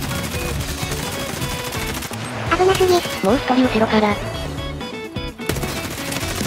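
Bursts of unsuppressed M4 rifle fire in Escape from Tarkov crack out in rapid volleys, loud and close, mixed with game sounds while a player talks over them.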